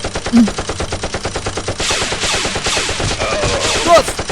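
Toy Nerf blasters fire in a rapid, rattling volley of sharp pops during a mock battle, the bursts coming in quick repeated clusters with a couple of brief shouts in between.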